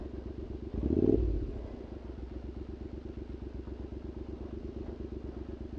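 Triumph Scrambler motorcycle engine running steadily on a byway, a close, rhythmic low thrum with a brief louder rev near the start, no talking over it.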